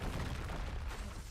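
A Confringo blasting spell goes off in Hogwarts Legacy on Nintendo Switch, a short dense boom with a rumbling low end that sustains for about a second before tapering off.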